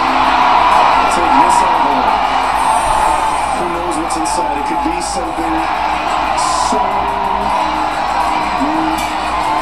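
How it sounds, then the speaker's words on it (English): Stadium crowd in the Cars Mater-National video game cheering and whooping on race opening day, a dense sustained roar with scattered yells, with a voice speaking over it. "Oh yeah, this is a great opening day crowd. I bet they can hear us out at the interstate."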